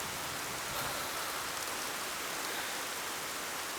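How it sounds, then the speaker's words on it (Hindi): Heavy rain pours down steadily through the night, a dense, unbroken hiss that stays even and close for the whole stretch with no voices over it. "और अगर बारिश सारी रात चलती रही तो?"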